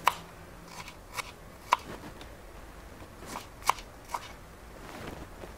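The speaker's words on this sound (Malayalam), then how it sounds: "അതുപോലെ തന്നെ ചെറിയ ഉള്ളിയും നീളത്തിൽ നമുക്ക് അരിഞ്ഞെടുക്കാം." A knife slices small onions lengthwise on a cutting board, giving a few sparse, quiet crisp cuts and clicks spaced out over several seconds.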